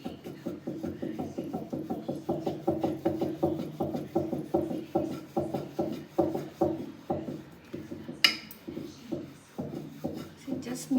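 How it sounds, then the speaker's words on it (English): Chapati dough rolled thin on a board with a rolling pin, a steady rhythmic run of repeated rolling strokes at close range, briefly interrupted by a sharper knock near the end. "I'll roll into a thin chapatis."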